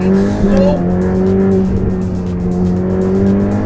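Ferrari Pista Spider with a 3.9-liter twin-turbo V8 rated at 711 horsepower, holding a loud, steady engine drone close by with a few brief higher tonal sweeps early on, continuous throughout.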